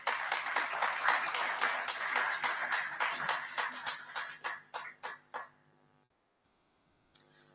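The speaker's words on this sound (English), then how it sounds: "I think he deserves another round of applause." A business conference audience in Lusaka claps steadily for several seconds, then the applause thins into scattered individual claps and fades to near silence.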